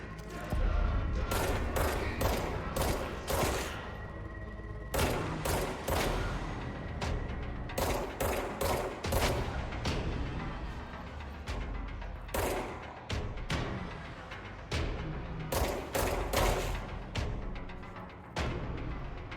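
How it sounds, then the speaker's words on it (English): Pistol gunfire in the action game Control, a continuous barrage of sharp, loud shots in quick clusters with brief gaps, firing steadily from start to finish. "very thorough with these pistol shots"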